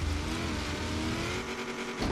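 A V8-swapped Nissan 370Z in Forza Horizon 3 revs hard and rumbles with a deep, throaty, pickup-like growl that rises and then eases off. It sounds close and loud, and no one is speaking.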